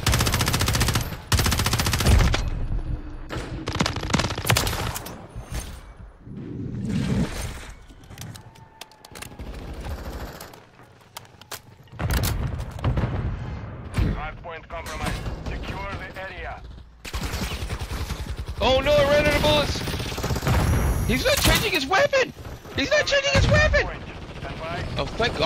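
Gunfire from the video game Modern Warfare 3 fills the scene, with repeated loud bursts of automatic and single shots crackling close by, dipping briefly before resuming, while someone talks over parts of it.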